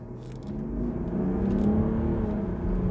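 A Mercedes-Benz GLS 400d with the OM656 six-cylinder diesel engine runs with a steady, smooth low hum and a faint whir, heard close and alone without talk.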